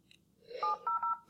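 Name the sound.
telephone keypad tones entering a conference access code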